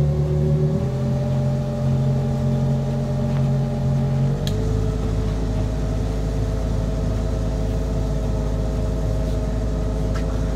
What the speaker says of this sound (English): use the thrusters just to spin up